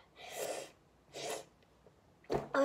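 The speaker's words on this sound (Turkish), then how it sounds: "sabunu kokladım, o yüzden hapşırıyorum" A person sneezes after sniffing soap, with two breathy, snorting sniffs close up followed by a sharp sneeze burst.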